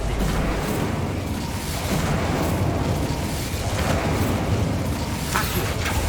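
Continuous roaring fire-and-blast effects from spellcasting in Hogwarts Legacy, including the Incendio fire spell, loud and dense throughout with booming bursts and no pauses.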